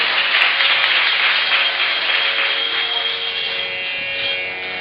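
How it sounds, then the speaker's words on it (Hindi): Audience at a Hindu Ram Katha religious discourse in Delhi claps steadily together, a dense, even wash of hand claps filling the hall and slowly thinning toward the end, with no voices over it. "अगर मेरी बात सही है तो एक बार तालियां बजा"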